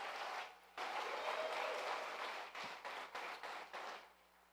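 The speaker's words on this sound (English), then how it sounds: "Please join her in a round of applause." Applause from the audience at the closing ceremony of a world debating championship final in Panama, a loud burst of clapping that fades into several shorter waves before dying away.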